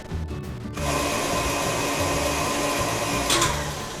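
An electric hand mixer whirs steadily at high speed through pumpkin cupcake batter, a close, continuous buzzing drone with a faint rattle and a brief brighter scrape near the end.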